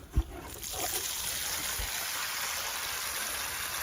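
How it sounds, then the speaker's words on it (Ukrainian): Water is poured from a watering can onto cucumber seedlings set in holes in soil, a soft, steady, close trickle that runs on after a brief dull thump at the start. "Тому ось поставила в ямки. Зараз ось так підливаю."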